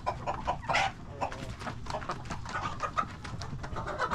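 Chickens clucking and chattering close by while pecking eagerly at scattered feed on a farm, with short irregular calls and bursts of movement over a low rustling background.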